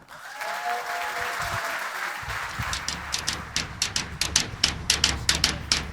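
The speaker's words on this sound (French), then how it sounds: "Merci d'applaudir Jumbo Fast Good, ils sont de Bruxelles." Audience applause for a Brussels performing group, a steady wash of many hands clapping that grows sharper and more rhythmic toward the end, heard close and without talk.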